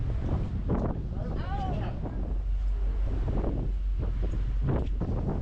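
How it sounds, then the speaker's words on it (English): Gusty wind at a ferry's bow on the Firth of Clyde buffets the microphone in low rumbling bursts while voices talk intermittently over the roar. "it proved pretty windy and unwelcoming"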